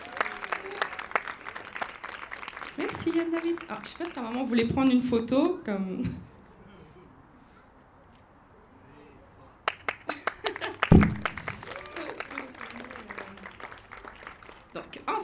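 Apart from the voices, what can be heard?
audience applauding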